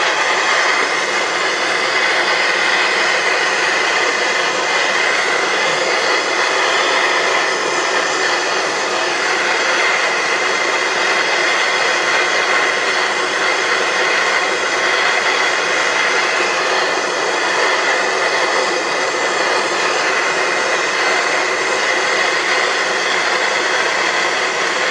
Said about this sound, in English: we're going to heat this one up.